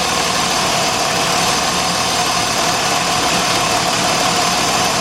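A 2006 Jeep Grand Cherokee Laredo's 3.7 engine idles with a cylinder 3 misfire, a loud, close, continuous rumble with a rough, uneven vibration throughout.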